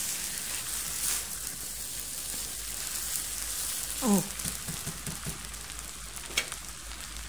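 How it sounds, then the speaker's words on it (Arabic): Chicken soup with taro added boils in a pot on a home stove, giving a steady sizzling, bubbling hiss throughout. Someone speaks a brief word partway through. "يغلي على طول دلوقتي"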